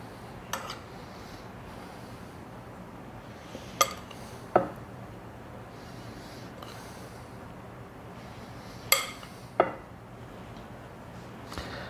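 A spoon clinks sharply against a dish several times, isolated taps spaced seconds apart over a low steady room hum, as a topping is shaken over apples for a caramel cake.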